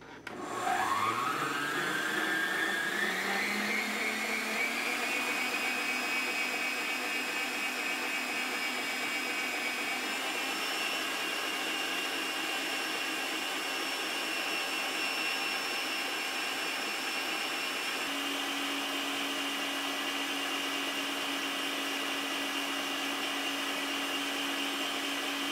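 An electric mixer beats a cake filling at maximum speed, starting with a rising whine, then holding a steady, loud whirring drone for about two minutes.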